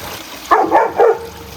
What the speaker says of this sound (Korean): 왜 짖는 걸까?